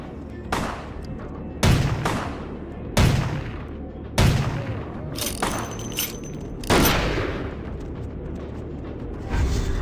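Repeated loud gunshot bursts ring out in the Vampire the Masquerade video game, roughly every second or two, each with a booming tail, over a steady background.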